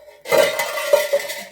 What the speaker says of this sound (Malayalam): ദമ്മ് പൊട്ടിക്കുന്നു